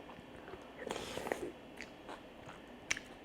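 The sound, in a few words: eating white baek kimchi with rice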